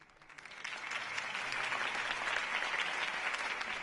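A crowd in a Batman video game applauds steadily, the dense clapping swelling in the first second and then holding at a full, even level throughout.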